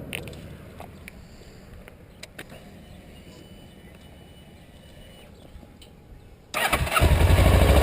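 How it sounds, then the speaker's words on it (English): A motorcycle engine fires up after about six and a half seconds of quiet room tone, bursting into a loud, steady, close idle that runs to the end. "Let me turn the bike on."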